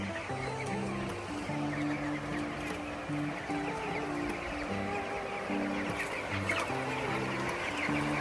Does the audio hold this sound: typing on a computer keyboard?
no